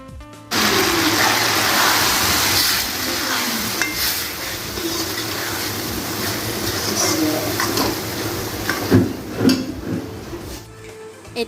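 Boiled mati dal (black gram) tipped into a pan of browned fried onions, bringing a sudden loud sizzle that settles into a steady frying hiss with stirring and scraping, and a few clatters of the spoon toward the end.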